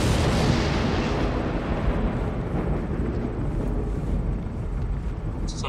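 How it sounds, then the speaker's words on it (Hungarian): Gunfire in the sniper video game Sniper Elite V2: a loud, continuous, rumbling barrage of shots and blasts with no quiet gaps. "Valaki lövöldözik."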